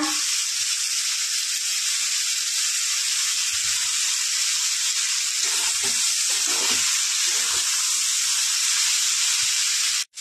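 Ginger paste fries in a pan for a Bengali chickpea-greens dish, a loud, steady, hissing sizzle that fills the whole clip, with soft scraping stirs showing through near the end.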